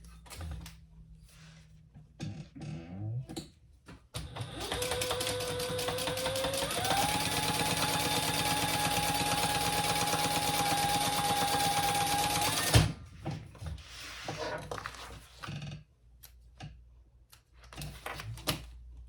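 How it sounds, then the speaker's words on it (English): A sewing machine stitches across the bottom of a crossbody bag's exterior pocket in one steady, loud run of about eight seconds, framed by softer handling clicks and rustling before and after. "then we're gonna sew that across the bottom"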